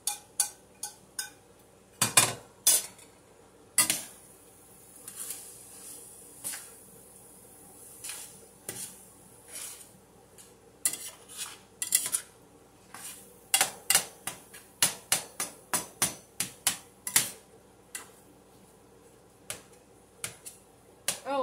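A utensil scrapes and taps in a pan as garlic is stirred into a butternut squash and apple hash. Irregular clicks and clatters come close up, in scattered bursts with quiet gaps between them.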